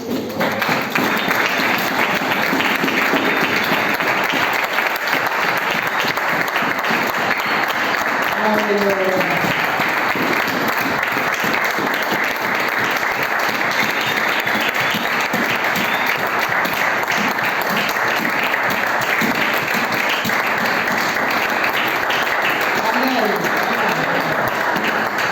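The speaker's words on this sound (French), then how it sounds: "Est-ce qu'on peut applaudir la parole de Dieu?" A church congregation applauds for the full span, producing loud, dense and sustained clapping from a large crowd, with voices calling out now and then beneath it.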